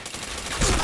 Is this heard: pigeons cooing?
no